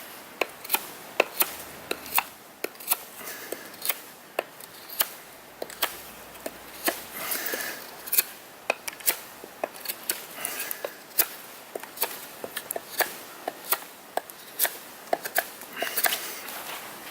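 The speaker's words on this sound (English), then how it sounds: "That edge geometry feels great, capable of getting right through the wood, taking some nice slices." A TFK T17 knife carving slices from wood outdoors, a series of sharp, crisp cutting clicks at an irregular, steady pace over a quiet background.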